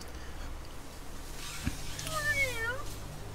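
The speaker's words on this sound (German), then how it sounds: "Eine Katze? Kitty Cat?" Cat meowing in the video game Little Witch Nobeta, a single drawn-out rising and falling meow, fairly clear and close, over quiet game ambience.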